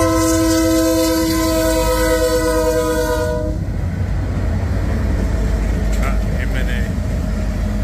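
A BNSF locomotive hauling a freight train sounds its horn in long, loud chords, then the horn stops and the rumble of the passing train carries on close by.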